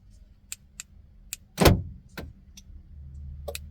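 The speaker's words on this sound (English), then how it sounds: "it now locks and unlocks the car" Door locks on a car actuating after a newly programmed key is tested: several sharp, separate clicks and one louder thunk of the lock mechanism, close by, with light keys jangling and no talk.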